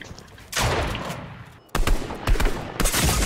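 Loud gunfire in a squad-based battle video game, dense bursts of rapid shots in two main volleys with a brief gap between, sharp cracks scattered through.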